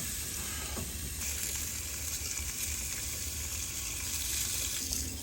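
A T-bone steak sizzles in an Ooni Karu 12 pizza oven, a steady, dense hiss that carries unbroken and fairly loud throughout, with no one speaking.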